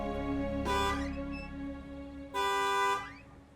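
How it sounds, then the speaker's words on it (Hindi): Two long honks of a car horn, the second after a short pause, loud and steady against a low idling rumble. "गाड़ी आ गई हुई है। हॉर्न बजा रही है काफी देर से।"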